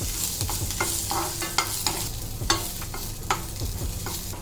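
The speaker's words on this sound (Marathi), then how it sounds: "फोडण्यासाठी लसूण पहिली अशी परतून घ्यायची। नंतर यात तेल टाकायचा 1 चमच।" Garlic frying in oil in a pan for a raw mango curry in a village kitchen: a continuous close sizzle broken by irregular scrapes and taps of a spoon stirring, with no voices.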